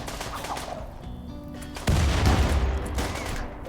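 Grenades and rapid gunfire in the RimWorld video game build into a loud, dense burst of overlapping explosions and shots that continues to the end.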